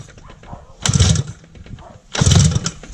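Homemade dune buggy engine cranking and failing to catch, two loud sputtering bursts about a second long each, close by, with faint rumble and voices between attempts.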